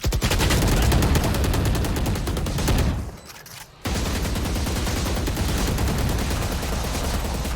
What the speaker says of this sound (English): That's lots of guns going on.